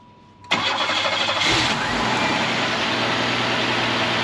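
A 1994 Buick Regal GS engine cranks and catches, then settles into a steady, loud idle that continues without interruption.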